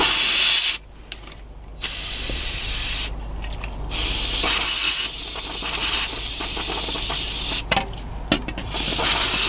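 Cleaner sprays in loud, hissing bursts around a diesel engine's injector area, a few separate blasts with short gaps between them. It sounds close, with no voices.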